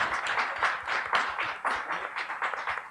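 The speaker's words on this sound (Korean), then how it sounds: "박수 부탁드리겠습니다." An audience at a youth forum applauds for a few seconds, a dense, fairly close patter of many hands clapping in steady waves without talk.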